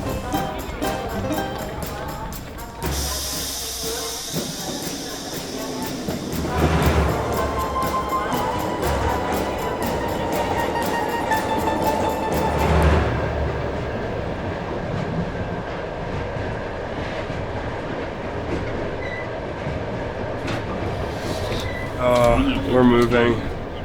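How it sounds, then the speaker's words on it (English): Passenger train setting off on a Trans-Siberian journey, a steady rumbling roll with faint rhythmic clatter of wheels, continuous and fairly loud, with a rising hiss and occasional clanks, voices heard at times over it. "Boarding the train."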